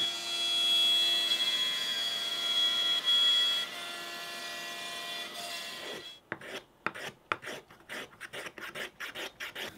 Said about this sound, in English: Had the machine carving little waist shapes so I can later create the waist clamping blocks.